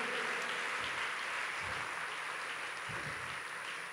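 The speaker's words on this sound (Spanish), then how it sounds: "Ese aplauso para el Señor" Faint, distant applause from a congregation at a closing youth convention church service, a soft continuous wash of clapping with a few low thumps underneath.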